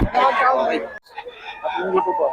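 Rooster crowing at an outdoor chicken market, a strained crow near the start and a second call after a brief pause, close and loud amid people talking nearby.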